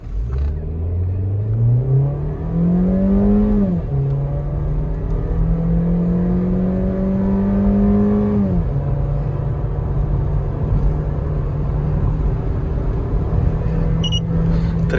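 Under full-throttle acceleration, a stock-firmware 2020 Skoda Rapid 1.6 roars up through its gears with two clear shift drops, then holds a steady rumbling drone. It is close and loud throughout.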